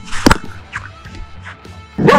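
Dogs bark at outdoor cricket nets in cold Derbyshire weather, with several sharp, loud yaps near the start and the end and fainter yips and whimpers in between.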